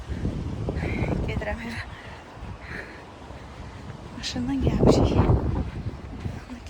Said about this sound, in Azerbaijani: Çünki çöldə dəhşətli külək var.